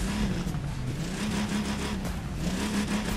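Steady engine drone of an old DeLorean in the video game The Crew 2 at a low idle pitch, rising and falling slightly as it revs, exhaust audible, heard alone and fairly close.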